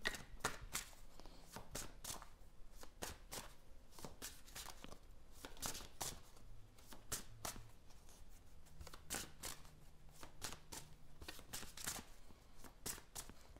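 Tarot cards are handled and laid down over another card, giving a series of quiet, crisp slaps and shuffling flicks in an irregular rhythm, close and soft with no talk.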